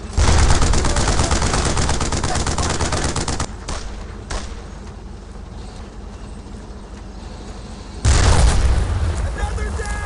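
Rifle and machine-gun fire in the World War II shooter Brothers in Arms: Road to Hill 30 comes as dense, loud bursts with booming explosions. The firing eases briefly, then returns at full intensity, and soldiers' voices shout underneath.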